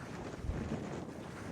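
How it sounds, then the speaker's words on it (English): Stormy wind on an open field at a campsite near York buffets the microphone in a steady low rumble with gusty swells, loud and close, with no voices. "Now we're on this field, it actually is quite windy."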